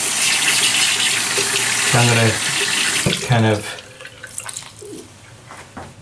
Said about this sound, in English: put some water on it, wring it out here